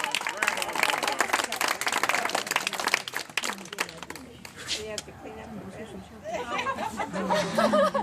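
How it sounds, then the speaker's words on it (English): Audience at a magic show claps after a trick, dense applause for about four seconds that thins into scattered claps, chatter and chuckles as voices take over. "Let's give Ruth a big round of applause."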